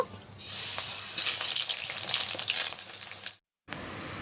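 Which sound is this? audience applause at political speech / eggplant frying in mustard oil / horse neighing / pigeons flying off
eggplant frying in mustard oil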